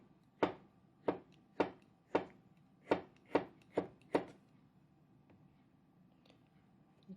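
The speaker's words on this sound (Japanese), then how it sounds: "たけのこの細いのは1/2ににして、切ります。" A knife chops cooked thin bamboo shoots on a cutting board, eight crisp, evenly spaced thuds close up, followed by a few seconds of near quiet.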